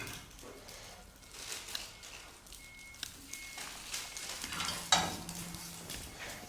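Mutton liver fries in a pan with a steady, moderate sizzle and crackle, broken by scraping stirring sounds and one sharper clatter near the end.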